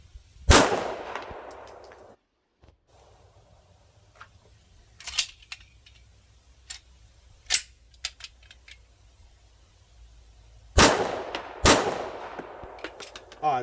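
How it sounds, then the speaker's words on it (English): A pistol firing 124-grain rounds lets off a loud shot, then scattered clicks and clinks of handling, followed by two more sharp shots close together near the end, with no one talking. "Definitely even softer shooting with the 124s."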